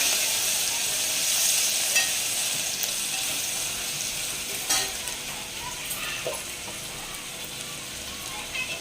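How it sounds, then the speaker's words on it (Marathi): Crushed garlic sizzles steadily in hot oil in a pan, a close continuous frying hiss broken by a few scrapes and stirs of a spoon. "त्याच्यामध्ये लसूण चेचलेलं मी टाकते"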